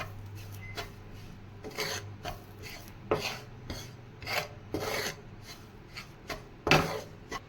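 Coconut being grated in a home kitchen, a rough rasping scrape repeated in irregular strokes, close and fairly quiet, with short pauses between passes and one louder stroke near the end.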